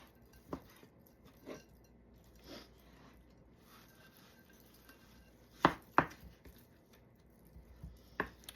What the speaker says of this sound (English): So I'm going to slice up the steak.